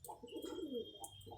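Pet pigeons in a rooftop loft coo softly in short, repeated phrases, faint and fairly close, with no talking.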